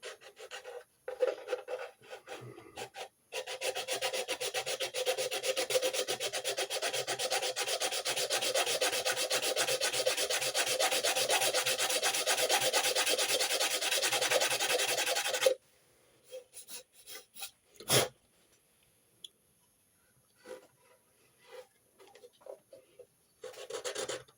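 Wood is being smoothed on an HMS Bounty ship model: a continuous close rasping rub for about twelve seconds, with a few brief scrapes before and after.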